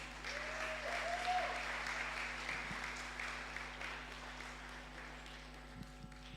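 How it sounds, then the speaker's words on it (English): An audience applauds steadily, a dense wash of clapping that holds for several seconds before gradually thinning out. "Please, let's give them another round of applause."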